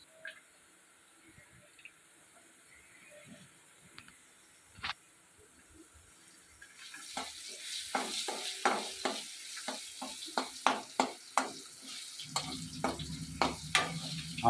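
Potato pieces lightly browning in a pan, starting as a near-quiet stretch with faint scattered clicks, then a rising sizzle punctuated by quick rhythmic stirring knocks and a louder crackle near the end.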